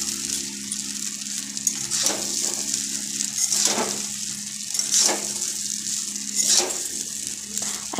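Ghee sizzling steadily in a pan while cooking chira polao, a continuous close frying hiss with periodic scraping stir strokes every second or so, no talking.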